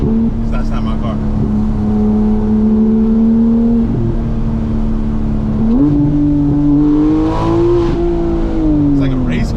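A Porsche GT3 RS engine drones loudly at close range, then steps up into a higher revving pitch and holds there, with people talking faintly alongside.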